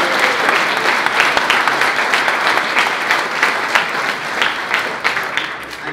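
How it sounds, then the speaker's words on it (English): A large crowd applauds professional boxer Anthony Fowler at a Liverpool boxing event, a loud, sustained wash of clapping from many people that stays steady throughout. "So what about a round of applause for Anthony Fowler?"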